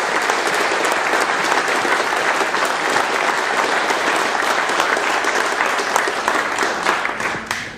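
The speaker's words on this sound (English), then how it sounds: "I want you to applaud my staff, please" A conference audience claps steadily and loudly for nearly eight seconds, a dense, even wash of many hands with no pause, thinning slightly at the end.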